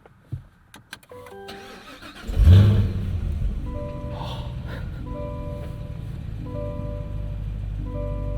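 A 2024 Cadillac CT5-V Blackwing supercharged V8 engine cranks and catches on a warm start, then settles into a steady, fairly quiet idle with a smooth low rumble close by.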